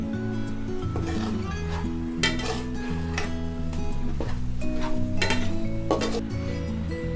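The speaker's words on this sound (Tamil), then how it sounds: "இப்போ இது எல்லாமே நம்ம ஒன்றோடு ஒன்று நல்லா நம்ம கலந்து விட்டுக்கலாம்." Egg masala with onion and tomato being stirred in a pan, with clinking scrapes of a utensil against metal over a soft sizzle and background music, close and clear with no speech.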